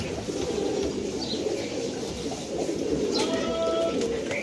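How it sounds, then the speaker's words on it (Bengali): Laldom pigeons coo at a seller's stall. Low, continuous throaty cooing sits under a busy background, and a brief sharper chirp is heard near the end. "লালদম কবুতর দেখতে পাচ্ছেন আপনারা"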